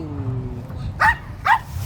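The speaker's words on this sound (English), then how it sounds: "Stop barking." A dog gives two short, sharp barks about half a second apart at moderate distance, outdoors at a park where a pet parrot is being shown, with a low background hum.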